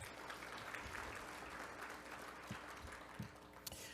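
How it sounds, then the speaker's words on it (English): Rotarians in a conference hall at a closing summit session applaud, a steady, dense wash of clapping held at even level for the whole stretch, with a few sharper claps standing out near the end. "So give yourselves a hand clap."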